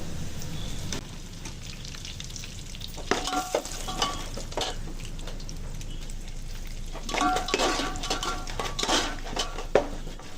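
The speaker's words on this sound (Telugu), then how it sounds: "ఎండుమిర్చి కొంచెం వేగిన తర్వాత" Dry red chillies frying in oil while being stirred in a pan: a continuous sizzle with repeated scraping and clinking of a utensil against metal, close up.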